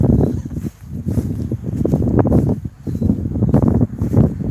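Gusty wind buffets the microphone in loud, uneven rumbling bursts that rise and fall throughout.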